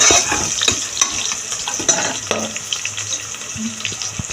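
Onions and vegetables sautéing in ghee in a pan for vegetable pulao, a loud close sizzle with repeated scraping and tapping of a stirring spoon, irregular and busy throughout, no talk.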